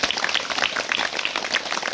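A church congregation claps in praise during a sermon, with many hands making a dense, continuous patter at moderate volume from across the hall.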